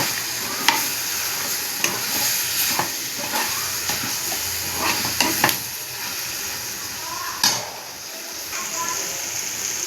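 Masala paste for a brinjal, raw mango and drumstick sambar being sautéed in a pan, with a steady close sizzle and scraping stir strokes, plus a few sharp clinks of a spoon against the pan.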